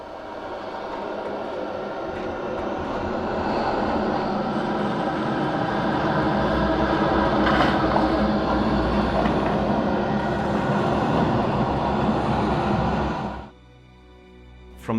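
In-game bat swarm sound from Alan Wake, a broad roaring rush that swells gradually, holds loud and full for about thirteen seconds, then drops away sharply into near silence.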